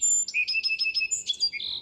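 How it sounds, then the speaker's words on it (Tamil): A sparrow chirps in quick repeated high tweets, a clear run of short notes followed by a longer trilling phrase, close and alone. "குருவி கீச்சிடும் சத்தம்"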